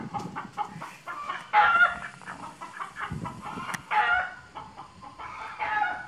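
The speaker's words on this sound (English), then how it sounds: "Some chickens there." Several chickens cluck and squawk near a barn on a historic homestead in Cross Creek, in uneven bursts, with a few louder calls standing out over the softer murmuring.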